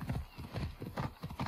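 A galloping horse in Assassin's Creed Odyssey, its hooves pounding in a steady rapid clip-clop rhythm, loud and close, with a brief whinny mixed in.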